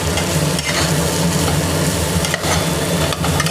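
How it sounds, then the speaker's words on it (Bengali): Potatoes get stirred in a cooking pan, a dense continuous sizzle and scraping with a low rumbling hum underneath, close up and unbroken, with no voices. "ভালো করে আলুটা মিশিয়ে নিচ্ছি"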